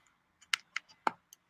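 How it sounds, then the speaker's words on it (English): Someone types on a computer keyboard during a call, with a handful of sharp, irregular key clicks that are quiet and somewhat distant. "I hear a keyboard pressing, but that's it."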